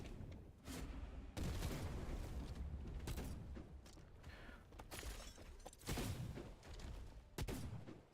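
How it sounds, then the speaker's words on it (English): Gunfire in the video game Wayfinder, a wild volley of sharp, repeated bursts and impacts with creaking mechanical clatter between them, loud and close with no speech. "I'll just fire wildly"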